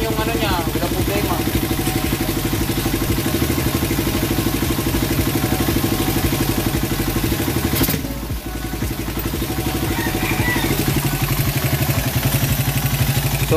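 A Raider 150 motorcycle engine runs steadily at close range with a rhythmic, clattering idle, briefly dipping around the middle before resuming the same even chugging beat, with no voices.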